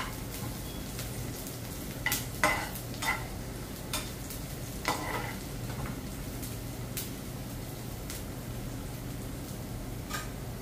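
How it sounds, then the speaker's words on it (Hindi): Baati dough balls roast in a pan toward golden brown, giving a faint, steady sizzle with a few soft stirring scrapes and light ticks scattered throughout, no voices. "इसे जलाना नहीं है लेकिन गोल्डन ब्राउन करने तक भूनना है"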